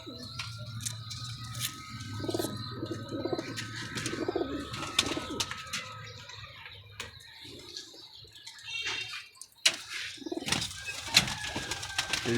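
Domestic pigeons coo in soft, repeated low calls close by, with occasional wing flaps and rustling between calls and no talking over them.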